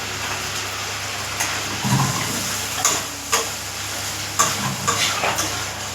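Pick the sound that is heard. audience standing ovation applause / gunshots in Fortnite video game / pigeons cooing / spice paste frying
spice paste frying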